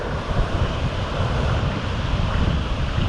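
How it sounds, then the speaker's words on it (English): Water rushes through Jackson Lake Dam in Grand Teton National Park, a loud, dense, continuous roar mixed with wind buffeting the microphone. "The rush of water coming through there is insane."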